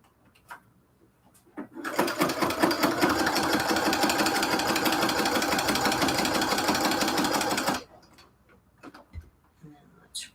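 A sewing machine back stitching cathedral window quilt curtains runs in one steady, fast, loud whirring burst of about six seconds, with quiet handling noises before and after.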